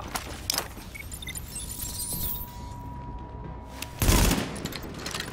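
Heavy gunfire in The Division during a firefight at the Queens Tunnel camp, with broadband bursts of shots and rattling, a loud blast or volley near the end, and no talking.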